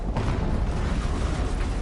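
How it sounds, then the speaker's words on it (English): A loud, rumbling explosion in the video game Horizon Zero Dawn, a dense, sustained roar of blast and debris lasting nearly two seconds, with no talking over it. "An explosion."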